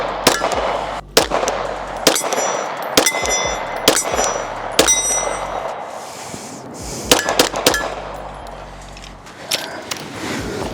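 A Glock pistol fitted with a Strike Industries frame fires a string of sharp, loud shots at a range, each report followed by a ringing clang from a steel target, in irregular bursts.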